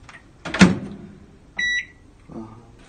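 An oven beeps once it has finished preheating for a cheesecake, a short electronic tone sounding after a thump like a door or cupboard, heard nearby in a quiet kitchen.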